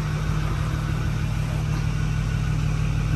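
Ford 6.4 Power Stroke diesel engine running after a head and head-stud job, a steady low idle rumble heard up close, continuous and even throughout with no voices.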